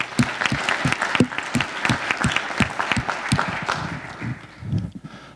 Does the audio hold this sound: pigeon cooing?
no